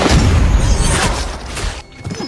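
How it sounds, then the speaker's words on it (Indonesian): A grenade explodes nearby during a film battle scene, a loud close boom with crashing debris that fades into a brief lull before smaller impacts return. "tapi ada granat yang meledak di dekatnya"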